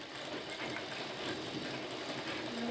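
A sewing machine stitches a teddy bear, running as a steady, continuous mechanical whir throughout, moderately quiet and close, with no voices.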